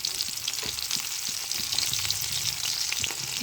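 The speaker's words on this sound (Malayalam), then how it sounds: "അതുപോലെ ഇഞ്ചി ഒന്ന് ചൂടായി വരുമ്പോൾ അതിൻ്റെ കൂടെ തന്നെ പച്ചമുളകും ഇട്ട് കൊടുക്കുന്നുണ്ട്." Ginger and green chillies fry in hot ghee for a masala dish, giving a steady, close crackling sizzle with scattered pops and light stirring scrapes throughout, no voices.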